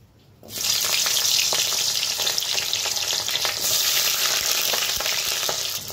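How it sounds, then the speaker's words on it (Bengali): Dried loitta fish drop into hot mustard oil, and after a moment of near quiet a loud sizzle bursts in and keeps going as steady close frying with light stirring. "শুটকিগুলো ছেড়ে দিই।"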